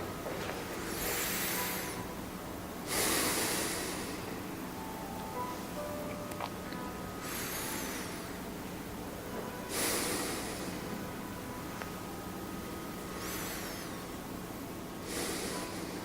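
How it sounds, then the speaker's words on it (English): Slow, deep breaths during a beginner Tai Chi exercise, with about six long airy inhales and exhales spaced evenly across a quiet background hum. "Okay, deep breathing,"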